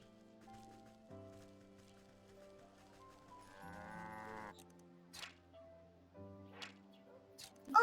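Cows mooing in the video game Wytchwood, several long, low, tonal moos in sequence, close and clear over quiet background with a few soft clicks.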